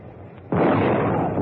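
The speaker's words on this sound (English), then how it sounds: "She'll fall apart with your big cannon firing from the deck like this." A large deck cannon fires from a steamboat on the Irrawaddy River: one sudden, loud, close boom that rolls straight into a sustained, heavy rumble lasting the rest of the moment.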